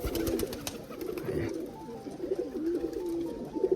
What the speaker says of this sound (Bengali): এই খাঁচায় মারামারি করছে এই যে নটটা এই যে মারামারি করছে সব